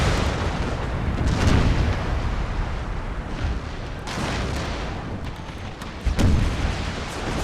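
Heavy cannon booms go off in a rolling barrage in a Civil War video game battle, several deep blasts overlapping with distant rumbling between the louder shots.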